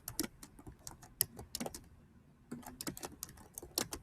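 Quiet, close keystrokes tap on a computer keyboard in irregular bursts, pausing briefly near the middle before resuming.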